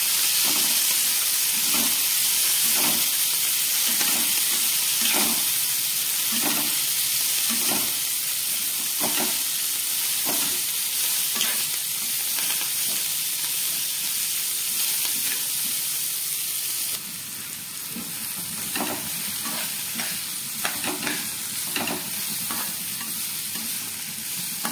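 Washed coriander leaves fry and sizzle in a pan with tempering, with steady hissing and a regular rhythm of spoon-stirring clatters; the sizzle grows a little brighter near the end.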